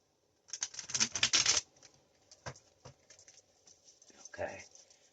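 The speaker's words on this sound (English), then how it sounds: "So I'm going to shuffle one more time, babe." Tarot cards are shuffled, giving a quick burst of riffling flutter, then a few soft isolated taps and a brief rustle near the end.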